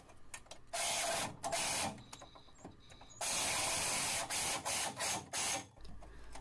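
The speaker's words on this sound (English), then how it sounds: "pretty typical reciprocating saw, and this metal blade's going to cut through that stainless like butter" A reciprocating saw with a metal blade cuts through a stainless exhaust pipe near the catalytic converter of a Range Rover L322, making loud harsh buzzing bursts that stop and restart, close up, with no talk.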